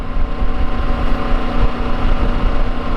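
A 2021 Triumph Tiger 900 GT Low motorcycle engine pulls steadily under acceleration, a loud, continuous low drone mixed with heavy wind rush, with no talk.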